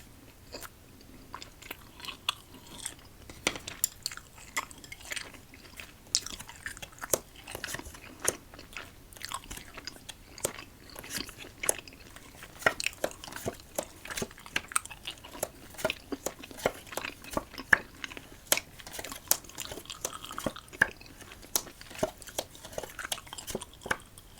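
A mint protein bar is bitten and chewed up close, with soft, quiet crunches and sticky mastication sounds repeating steadily and irregularly throughout.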